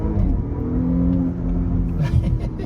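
An Audi SQ5 SUV with a twin-scroll turbo accelerating hard in second gear, its engine a loud, steady rumbling surge with rising drone throughout, recorded from inside the cabin.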